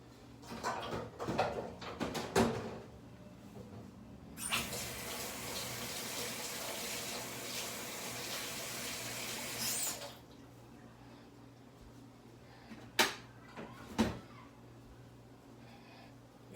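A tap runs into a kitchen sink in a steady rushing stream for several seconds while a dish is washed, with scattered knocks and clatter of handling before and after.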